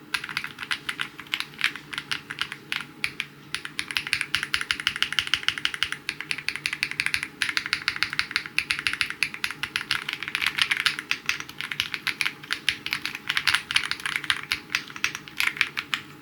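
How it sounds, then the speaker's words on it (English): Steady, rapid typing on a Mechlands Blade75 mechanical keyboard, close and continuous, with deep thocky keystrokes in a quiet room. "The sound of this keyboard is good. It gives that thock sound that a lot of people want"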